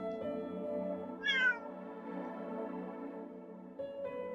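A stray black cat meowing in a video game, one clear, close, drawn-out meow rising over a sustained tonal music background, with no voices.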